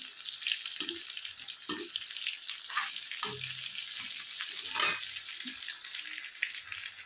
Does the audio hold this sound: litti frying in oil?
yes